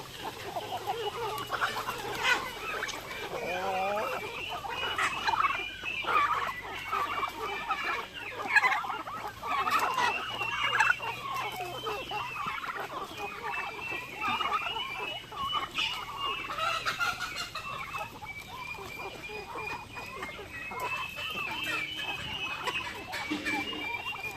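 Turkeys and chickens cluck and squawk continuously at moderate distance, a busy farmyard chorus with occasional louder calls rising over it.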